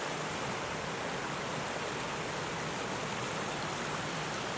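River water rushes steadily through a duck race course, a dense, unbroken wash of flowing noise that stays at a constant level throughout, with no voices.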